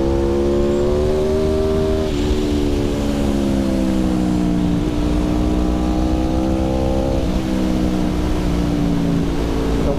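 An Aprilia motorcycle at high revs on a race track, a loud continuous engine drone that steps down briefly at each gear shift and climbs again, heard close up.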